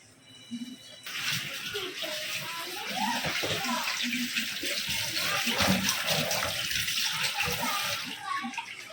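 Tap water runs steadily into a sink or basin while fish is washed by hand, with splashing and sloshing close by and voices talking over it.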